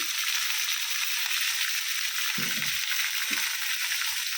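Kohlrabi frying in oil with a cumin and chilli tempering gives a steady, dense hiss that runs evenly throughout, broken by a couple of soft low thumps from the pan.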